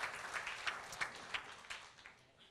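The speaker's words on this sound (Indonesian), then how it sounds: "Tepuk tangan buat Tuhan Yesus yang luar biasa." Church congregation at a Sunday service applauding, a fairly faint patter of clapping with regular stronger beats, as if hands strike together in rhythm, fading toward the end.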